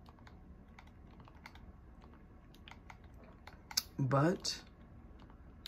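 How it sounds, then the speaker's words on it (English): Faint, steady clicks of buttons typing a search into Roblox on a PS4/PS5, with a louder burst where a voice briefly speaks. "All you guys have to do is go to the top and then type in Obby"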